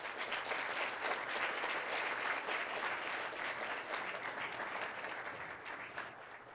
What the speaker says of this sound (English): round of applause for Mom and Dad